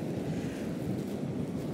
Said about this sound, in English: It is bright sunny, but it's windy